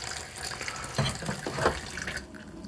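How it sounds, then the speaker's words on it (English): Water is poured into flour for homemade unleavened bread dough, a short soft trickle and splash close by over background hiss, with no talking. "Then I add some water."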